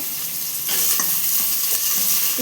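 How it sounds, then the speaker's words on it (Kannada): Onions with mustard seeds and cumin fry in hot oil for a village-style greens saaru, a loud, close, steady sizzle with occasional crackles and stirring scrapes, no voices. "ಸ್ವಲ್ಪ ಸಾಸಿವೆ ಸ್ವಲ್ಪ ಜೀರಿಗೆ ಈರುಳ್ಳಿ ಹಾಕೊತ ಇದ್ದೀನಿ"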